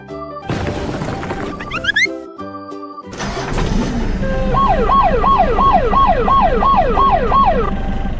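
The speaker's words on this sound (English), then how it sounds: "Ambulance." An ambulance siren sound effect wails in a fast, regular up-down pattern over a rumbling vehicle and light music, loud and close.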